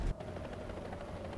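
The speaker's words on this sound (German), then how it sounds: "Ist ein Heli im Spiel." A helicopter in the War Thunder video game gives a steady rotor throb at moderate distance, continuous for the whole short stretch with no voices over it.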